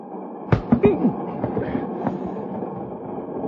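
A train rolls on rails as a sound effect in a 1958 western radio drama, with a few sharp clacks early on over a steady low rumble that carries on to the end.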